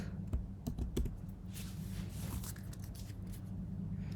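Keys clatter on a computer keyboard as a prompt is typed, a run of soft clicky taps that starts with a few distinct strokes and settles into steady typing over a low background hum.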